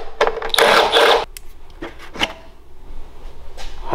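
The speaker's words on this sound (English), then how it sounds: "let me pull this housing off" A housing is pulled off a new 999cc V-twin engine with a loud burst of scraping, rattling handling noise that lasts about a second, followed by quieter, scattered clicks and knocks nearby.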